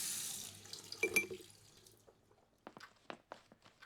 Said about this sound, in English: You brush your teeth with some toothpaste.